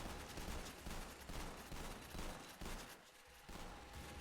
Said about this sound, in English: As you can see, it's just shooting a shotgun.